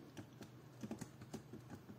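Quiet computer-keyboard typing entering text into laser-design software, a loose rhythm of soft, close key taps over about two seconds with no speech.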